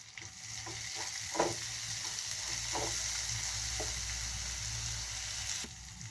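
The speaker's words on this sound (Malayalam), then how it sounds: "ഇത് എണ്ണയിൽ കിടന്ന് നന്നായിട്ടൊന്ന് വരളണം" Tomato and onion masala sautéing in hot oil for dal fry, a steady soft sizzle with occasional stirring clinks and scrapes of a spoon in the pan, heard alone at low volume.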